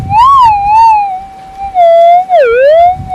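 A loud, warbling metal detector tone rising and falling in pitch, with two distinct swoops over a target in a pile of dirt while hunting gold nuggets, sounding close and alone without speech.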